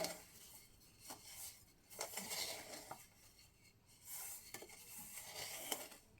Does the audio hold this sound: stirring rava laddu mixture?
yes